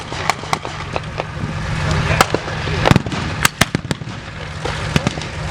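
Simulated American artillery and mortar fire at a Tankfest display, a rapid irregular series of loud pops and cracks over a steady engine-like drone, with a voice talking over it.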